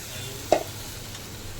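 Soybean and potato curry sizzles in a pan as water is added, a steady hiss with a sharp spitting burst near the start and another at the end.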